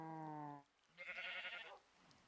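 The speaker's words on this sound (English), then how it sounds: "Yeah, this is a sheep." Two short Minecraft sheep bleats in quick succession, a clear tonal cry followed by a brighter, shakier one after a brief gap, both quiet and heard alone.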